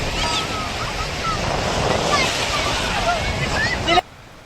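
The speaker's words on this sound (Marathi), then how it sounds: "लाट आली, लाट आली, लाट आली." Ocean surf breaks and washes continuously up a black sand beach at Bhatye, Ratnagiri, loud and close with wind buffeting the microphone, ending abruptly near the end.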